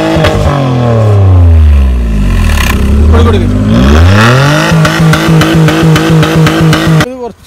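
Maruti 800 with a custom valvetronic exhaust is revved hard twice, the loud close engine note sweeping up and down, then settling into a choppy, throbbing idle with crackles before cutting off.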